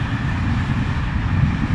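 A train passes by with a dense, steady low rumble and rolling noise that fills the clip without a break.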